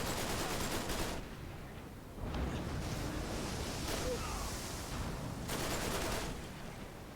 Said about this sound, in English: You just hip fire this machine gun.